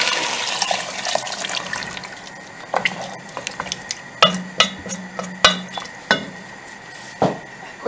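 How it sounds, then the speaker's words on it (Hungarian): Water poured into a cooking pot while making Hungarian green pea soup, a steady close-up splashing pour followed by several clinks of a utensil against the pot. "felöntöm vízzel."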